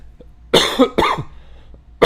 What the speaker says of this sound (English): the cough is starting to kick in